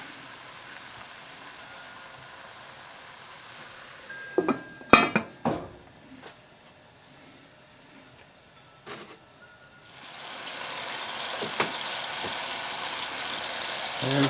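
A smoked ponce, or chaudin, sizzles steadily in a pan with a soft broadband hiss that swells louder toward the end, broken earlier by a few sharp clinks and knocks of utensils on the cookware.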